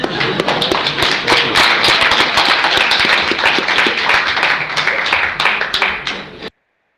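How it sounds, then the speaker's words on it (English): Applause from an audience, dense and steady clapping filling the room for about six seconds before cutting off abruptly. "let's all give him a round of applause so he doesn't feel so stupid."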